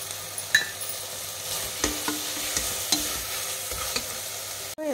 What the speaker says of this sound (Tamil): இப்போ எல்லாம் பச்சை வாசனை போய் வதங்கி வந்தாச்சு.